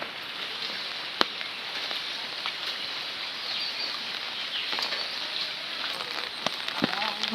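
Heavy rain hisses steadily over a village, a dense even wash of drops with occasional sharper taps and a faint bird call near the end.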